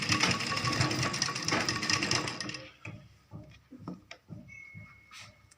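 A sewing machine loudly runs a continuous stitch over a folded kurti seam, doubling the stitching, then stops after about three seconds, leaving scattered light clicks and handling taps.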